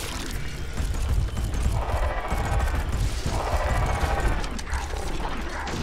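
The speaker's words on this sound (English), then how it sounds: "get that thing off of him so I can shoot him" Rapid video game gunfire bursts in dense, rattling volleys mixed with mechanical clatter, loud and sustained throughout, with no talk.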